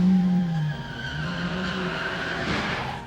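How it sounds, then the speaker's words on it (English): A car rolls up and slows at night outside a house in 1955, its engine humming steadily with a tire squeal and skid at the start, then fading out. "a car pulled up to the home of Reverend Moses Wright"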